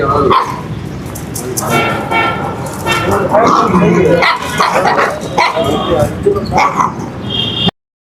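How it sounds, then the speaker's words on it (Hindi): Village dogs in Jalore bark, yip and whimper while playing, with repeated close barks and squeals mixed with people talking nearby outdoors. "आज देखो हमारे गांव में कुत्ते कैसे खेलते हैं।"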